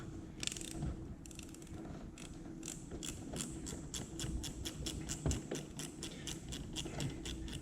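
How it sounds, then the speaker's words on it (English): A hand ratchet turned while loosening screws during an LED sidemarker install on a Dodge Charger Daytona, giving a fast steady run of close clicking pawl ticks over a low background hum. "I could have gotten back there with my powered ratchet, but I want to show you how I do it by hand also."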